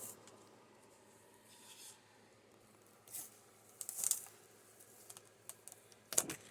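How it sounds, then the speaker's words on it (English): Stickers peeled off a backing sheet after a Cricut print-and-cut, heard as a couple of brief, close peeling rips against a quiet background, with a sharper tearing crackle near the end. "now I'm going to take these stickers off of here"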